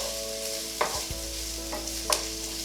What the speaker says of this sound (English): we're just going to give that a quick stir, just to coat it in the oil